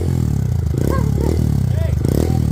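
A Honda Grom fitted with a Yoshimura exhaust blips its throttle in close, loud revs that rise and fall in a few quick pulses, with a rough, rorty note and no talking.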